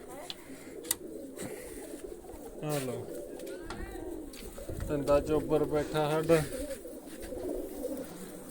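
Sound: pigeons cooing

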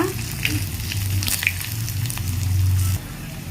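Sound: dried red chillies and shallots frying for tempering

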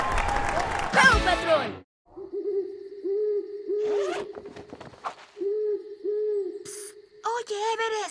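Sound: owl hooting

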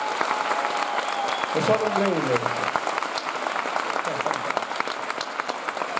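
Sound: concert audience applause for the technical crew

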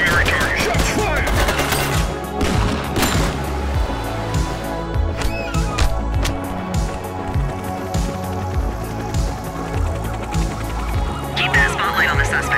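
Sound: gunfire from the video game The Precinct

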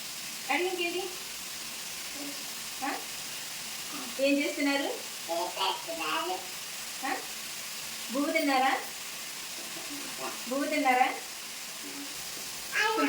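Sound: curry frying in a pan

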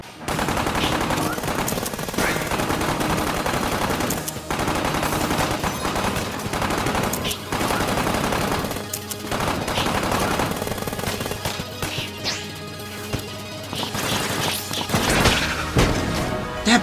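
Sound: pistol gunfire in video game

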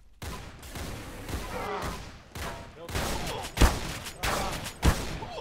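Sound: rifle gunfire in Roblox video game

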